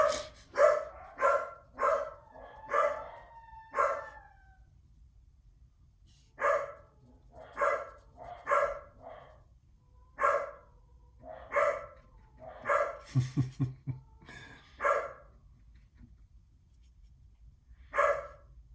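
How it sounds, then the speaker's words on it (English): Dogs barking in repeated bursts, several barks in quick clusters with short pauses, fairly close and clear over a quiet background. "I don't know what the dogs are all worked up about,"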